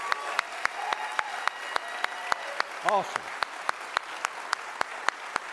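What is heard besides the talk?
audience clapping in church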